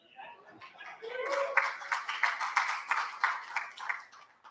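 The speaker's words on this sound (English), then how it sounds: "So with that round of applause" A crowd at the Bitcoin Cash Conference in St. Kitts and Nevis breaks into sustained applause. Dense, steady clapping builds within the first second, then continues with slight rises and falls.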